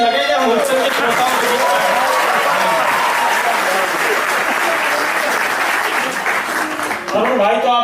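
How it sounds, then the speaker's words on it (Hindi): A packed hall audience at a Hindi comedy poetry gathering claps together in a loud, sustained wash of applause with cheering voices mixed in, easing briefly near the end. "एक बार पूरा सदन मिलकर पीछे तक तालियां बजाए"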